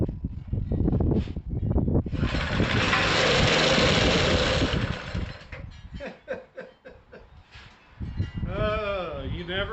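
A small engine salvaged from a junkyard bike, primed with fuel down the carburetor, sputters and catches after a rope pull, running loud and rough for a few seconds before faltering and revving again.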